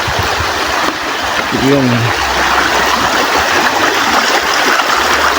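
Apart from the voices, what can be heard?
river flowing while crossing it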